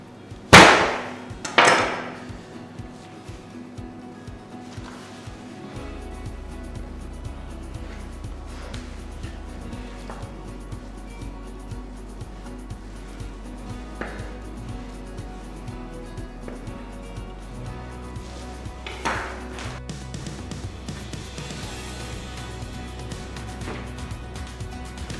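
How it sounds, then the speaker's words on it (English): A butcher cuts a lamb loin into chops during a butchery demonstration: two loud, sharp chopping blows close by at the start, then quieter handling and scraping over a low hum. "We cut all the loin into chops."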